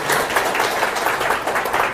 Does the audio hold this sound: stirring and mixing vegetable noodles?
no